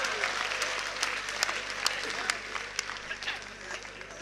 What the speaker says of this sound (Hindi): भाई ताली आनी चाहिए थी दोस्तों इस बात पे